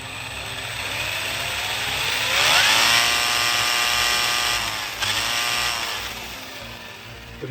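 A Manta Ray pre-1996 4WD RC car's gearbox and drive shaft whir close by, a high mechanical whine climbing as the motor spins up, holding steady, then dipping and easing off, with no voices.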